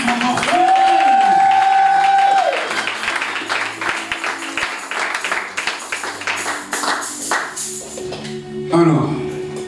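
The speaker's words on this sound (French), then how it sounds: "Vos acclamations sont mortelles" A church congregation at a French-language worship service applauds. The dense clapping builds and fades over several seconds under a sustained musical tone and a speaking voice.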